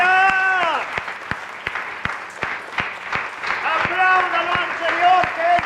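A church congregation claps in praise, the sharp individual claps ringing out under a preacher's amplified voice and shouts that carry on over the clapping.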